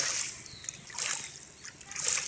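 Water splashing and sloshing through a freshly dug channel that carries rainwater away from a playground, with several bursts of splatter rising and falling over a soft continuous trickle.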